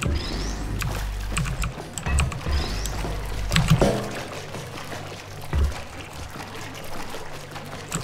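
Water pours and splashes in a Portal 2 test chamber, a loud, continuous gushing stream with a low rumble beneath it and occasional heavier splashes.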